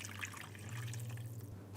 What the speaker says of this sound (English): Let's put 300 grams of water